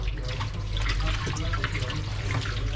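Running water rinses a brass nameplate in a steady, close splashing stream with uneven spatters and drips throughout, with no talk.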